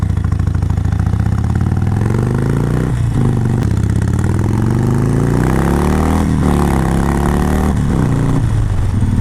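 Harley-Davidson Sportster 72 motorcycle with an otherwise stock engine and aftermarket exhaust, loud and close, rumbling through several rising revs and throttle blips with brief dips between them, no voices over it.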